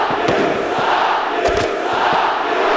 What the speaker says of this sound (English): Hear the crowd, Ford Field.